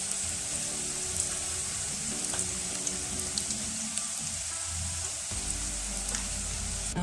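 Beef samosas frying in oil until golden brown, giving a steady close sizzle and crackle that runs unbroken with no voices.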